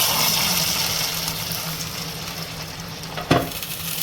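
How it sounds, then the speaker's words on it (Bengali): Frozen mango pieces fry in a pan with a steady, dense sizzle throughout. A brief clatter near the end is probably a stir or a utensil knocking the pan. "এটা এখন আমি একটু ভাজা ভাজা করে ফেলেছি"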